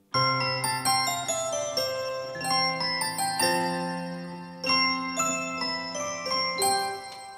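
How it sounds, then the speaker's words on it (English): Bright, tinkling small-bell tones from a Nord Electro 6 keyboard, played as a cheerful melody with chords, ringing and overlapping, with no talking. "Small bells, Christmassy."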